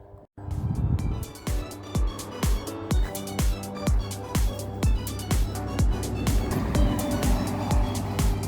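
A 1000cc Morris Minor classic car driving, with a steady low engine hum under a long regular series of sharp clicks and thumps, each strike evenly spaced and close by.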